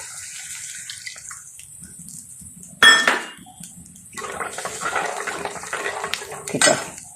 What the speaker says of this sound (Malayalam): 2ാം പാൽ ഒഴിച്ച് കൊടുക്കാം